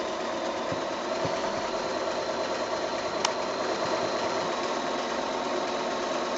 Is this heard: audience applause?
no